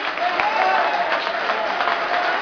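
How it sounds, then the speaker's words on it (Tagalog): A congregation claps hands together in church, a steady dense patter of many hands filling the room continuously with a crowd murmur beneath. "Would you clap your hands to the Lord Jesus Christ?"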